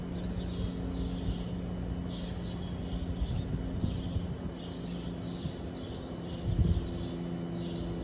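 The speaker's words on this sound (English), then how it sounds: "We out here just listening to the animals, listening to the birds, watching them." Birds call outdoors in the early morning, a series of short high chirps repeating at a steady rhythm over a constant low hum, faint and somewhat distant, with occasional low rustles.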